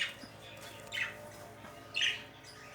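Budgerigars in a breeding cage give a few bright chirps and squawks, two louder calls standing out over a quiet background, with no talking.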